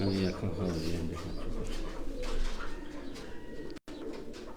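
A pigeon coos in soft, low, repeated throaty calls nearby, mixed with a voice and background chatter.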